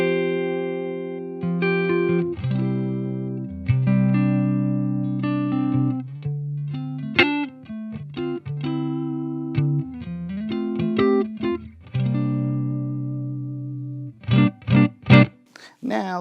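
Electric guitar played dry through a Fender Tone Master Deluxe Reverb amp with no reverb, clean sustained chords and single-note lines ringing up close, ending in a few sharp plucked stabs.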